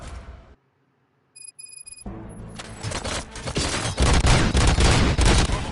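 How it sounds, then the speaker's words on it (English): After a short silence with a few high electronic beeps, a rapid burst of gunfire erupts in the video game RoboCop: Rogue City and keeps going, loud and dense. "Gunshots? What's going on?"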